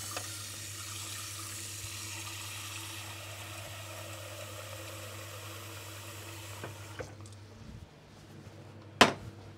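Tap water runs steadily into a kitchen sink for several seconds, then stops, followed by a few clinks and a sharp knock near the end.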